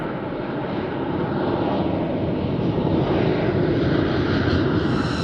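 The deep, steady roar of a B-2 Spirit flying wing bomber passing overhead, a broad, loud engine rumble that stays constant and swells slightly, with no voices.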